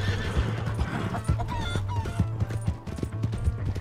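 Hooves of a horse in Red Dead Redemption 2 clip-clop in a quick rhythm along with whinnying, and chickens cluck in the background.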